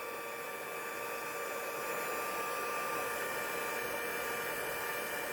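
A heat embossing tool blows steadily over paper, a constant airy whir like a small hair dryer that holds level and close, with no talk.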